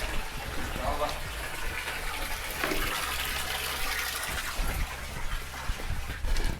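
Mineral spring water flows steadily in an underground spring at an abandoned sanatorium, a continuous close gush and splash that holds the same level throughout with no break.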